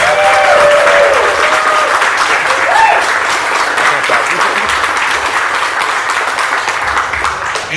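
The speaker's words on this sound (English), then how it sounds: "let's give a big round of applause" Loud, sustained crowd applause at a karting drift event in the rain, lasting the whole clip.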